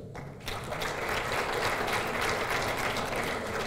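Audience applause at IPB university during a presentation, starting after a brief quiet moment and then swelling into a steady, dense rattle of many hands clapping that continues loudly to the end.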